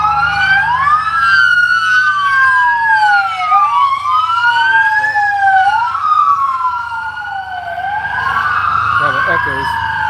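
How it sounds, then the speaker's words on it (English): A fire engine siren passes close by, wailing loudly in long rising and falling sweeps that overlap for about ten seconds. A low vehicle rumble sits underneath. "I saw a fire engine heading down Oak Street a couple of blocks to the east"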